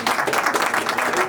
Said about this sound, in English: give them some applause